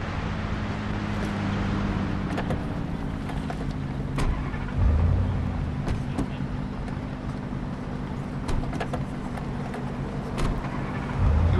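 Police car driving in the video game Police Simulator: Patrol Officers, a steady engine and road hum held at an even level throughout, with a few brief clicks and knocks over it.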